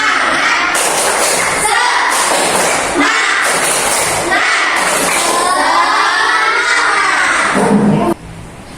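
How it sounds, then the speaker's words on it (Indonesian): A classroom of students doing the 'tepuk semangat' clapping chant: loud, dense rhythmic clapping with thumps and shouted children's voices throughout, ending abruptly near the close. "Yuk, tepuk semangat ya."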